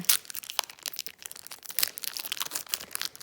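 Crinkly plastic Pokémon card pack wrappers rustle and tear in bursts of sharp crackling, close and continuous, with no talking.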